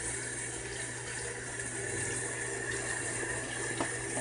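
Running water rinses bleach out of a hair closure, a steady faucet-like stream with gentle splashing, fairly soft and continuous throughout.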